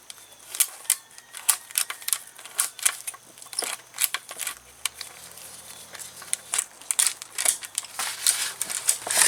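Ratchet straps cranked tight on Volkswagen front struts, a run of quick, sharp clicking bursts close up, coming in uneven clusters with short pauses between.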